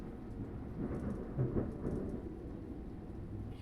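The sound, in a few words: thunder from a storm overhead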